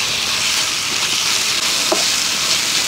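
Mackerel (ayala) fish fries in a pan as masala paste is stirred in, giving a loud, dense, continuous sizzle with faint scraping stirs, close up and without voices.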